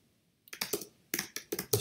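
Quiet keystrokes on a computer keyboard arrive after a brief silence, a short irregular burst of clicks and taps heard close up and alone.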